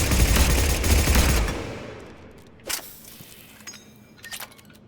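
Rapid gunfire from a weapon in Mass Effect 3 Legendary Edition, a dense burst of shots for about a second and a half, then fading echoes and a few scattered mechanical clicks.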